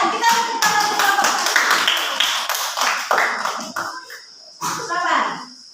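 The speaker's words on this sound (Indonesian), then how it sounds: "silakan kita tepuk tangan untuk kelompok" Applause in a primary school classroom for a student group, many small hands clapping in a steady patter with children's voices and a teacher talking over it, fading briefly before a short final burst.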